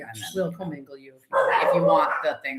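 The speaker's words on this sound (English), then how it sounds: "Sorry about my dogs." Several dogs bark and yip close by indoors, a burst of barks at the start followed by a louder, sustained run of barking, overlapping with people talking.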